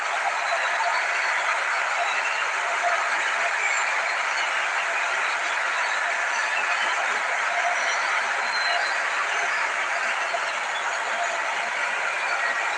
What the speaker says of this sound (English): left-footed effort from Valentín Barco and Argentina delight the crowd here at Auburn by taking an early lead.